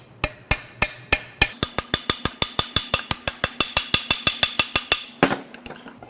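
A hammer taps on an Audi e-tron / Volkswagen ID.4 electric drive motor unit during teardown, a fast, regular series of about thirty sharp metallic strikes, close and ringing, ending in a louder clanking knock.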